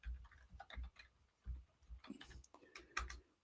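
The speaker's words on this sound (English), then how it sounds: "I realise I'm typing out loud with our own website address here" Computer keyboard typing in a scattered run of sharp, close clicks and taps with uneven rhythm and short pauses, fairly quiet, with no voices.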